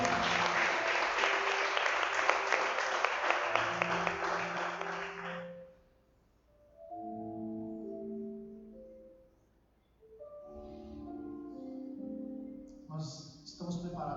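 A church congregation bursts into dense, loud applause for about six seconds, then it cuts off and a sustained voice with music-like tones carries on, pausing briefly before resuming.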